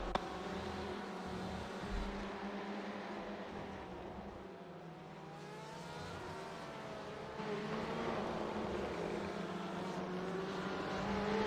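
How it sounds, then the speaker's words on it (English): Heavy V8 race car engine from an iRacing session on Interlagos, a steady mid-distance drone that swells and fades as the car passes, with a rise in intensity toward the end; no talking. "Someone with a nice heavy V8 outside."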